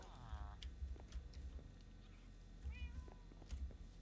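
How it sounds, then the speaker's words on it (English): Cats in the Minecraft video game meow a few times, short distinct mews at the start and again near the end over soft background thumps and game ambience. "Meow? Nope. That's just the two cats I already own."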